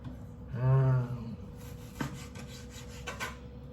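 A knife slices raw beef for black pepper beef, making a few scraping, rasping strokes and light clicks on the board after a short hum at the start. The sounds are close and fairly quiet.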